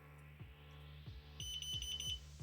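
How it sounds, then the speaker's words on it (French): An automatic hair curler beeps when the curl is done, a series of short high electronic beeps near the end over a quiet pulsing motor hum. "Et quand c'est bon, ça va faire des bip bip."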